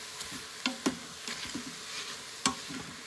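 A mix and chop tool breaks up ground beef in a sizzling pan for chili: faint frying under irregular scraping taps and pokes, close by.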